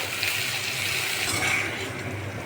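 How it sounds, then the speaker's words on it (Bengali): Spice paste of ground cumin, turmeric, chili powder and salt sautéed in a pan, stirred steadily with a soft continuous sizzle and faint scraping, close and moderately quiet, with no one speaking. "এই সব দিয়ে এখন মশলা কষে নিতে হবে সুন্দর মতো করে।"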